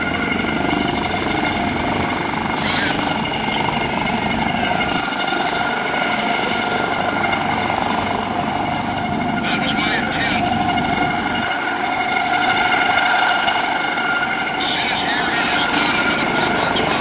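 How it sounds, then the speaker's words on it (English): A US Coast Guard HH-65C Dauphin helicopter drones steadily and close by at an airshow, its turbine whine and rotor thrum holding at a constant level throughout. "This HH-65C Dauphin helicopter, what the coasties like to call the pretty helicopter."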